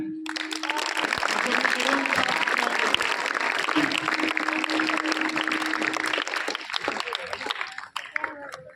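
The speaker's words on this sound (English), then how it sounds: "When they move, please clap hand." A group of people clap together in a sustained, dense burst of applause lasting several seconds, loud and close, with a steady tone underneath before it tapers off.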